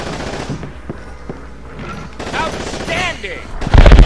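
Gunfire in the video game Call of Duty 2: Big Red One on PS2, scattered sharp shots through a battle soundscape with voices shouting over it, ending in a loud, rapid burst of machine-gun fire.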